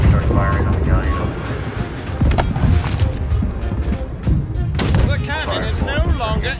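Cannon fire and naval battle noise aimed at a galleon in the game Blackwake, loud booming bursts over constant rumble and wind, with voices talking over it.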